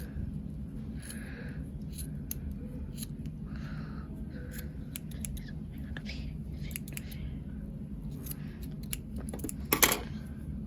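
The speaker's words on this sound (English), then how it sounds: "now we're gonna cut the glue" Scissors snip through glue on a homemade plush piggy in a few quiet, crisp cuts. A steady low room hum runs underneath, and one louder snip comes near the end.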